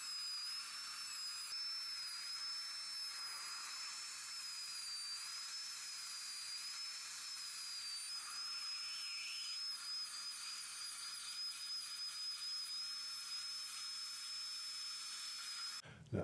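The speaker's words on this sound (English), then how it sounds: "I really like this burr for the interproximal surface preparation because it's straight" A high-pitched dental drill with a straight diamond burr whines steadily as it prepares the interproximal surfaces of maxillary teeth for veneers. The tone is thin and constant, with a faint hiss of water spray underneath.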